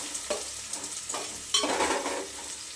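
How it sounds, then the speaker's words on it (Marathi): Onion sizzles in a pan while a spatula stirs it, giving a close, steady frying hiss broken by scraping strokes across the pan. "कांदा आपल्याला गुलाबी रंग रंगावर छान फ्राय करून घ्यायचा व्यवस्थित"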